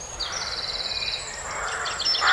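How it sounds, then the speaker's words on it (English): A bird calls outdoors among trees in Scotland, giving a quick, high, rattling trill that repeats a couple of times over faint background noise, fairly close. "Oh my god, what kind of bird was that?"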